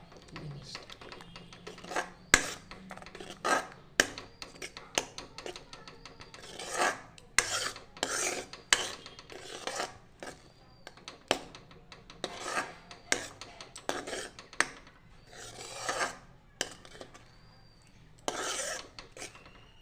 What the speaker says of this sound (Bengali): গ্যাসের ফ্লেমটা একটু ছোটো করে দিয়ে আমি একটু নেড়ে চেড়ে ঠিক এইভাবে